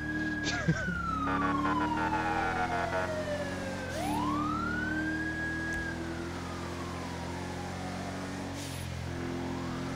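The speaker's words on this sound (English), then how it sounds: "cut your siren." A wailing vehicle siren sweeps down and back up in pitch, loud and steady over engine rumble, with a faint blip near the start.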